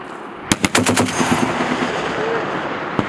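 An M2 heavy machine gun fires a loud, rapid burst of rounds at a live-fire range, followed by lingering outdoor echo and one more sharp shot near the end.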